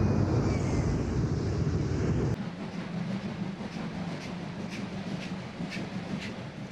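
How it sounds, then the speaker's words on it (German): A diesel V200 locomotive and a TEE railcar rumble past close by in Germany with a heavy low roar that drops off partway through, leaving lighter rolling clatter and wind noise. "Unterbrochen werden die dampfgeführten Züge von einer V200 und einem der damals modernen TEE-Triebwagen"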